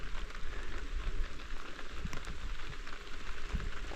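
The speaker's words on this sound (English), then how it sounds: "let the little rain shower pass" Light spring rain shower at a remote mountain campsite in southern West Virginia, a steady close patter of drops on surfaces with no talking.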